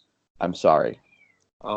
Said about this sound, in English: If you can hear my cat meowing in the background